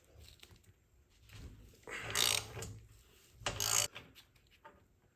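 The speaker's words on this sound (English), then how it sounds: "22 mil socket, and break this loose." A 22 mm socket on a ratchet breaking a bolt loose during an engine job on a BMW F31 335i wagon, two short, loud bursts of mechanical cracking and ratcheting between quieter handling noises.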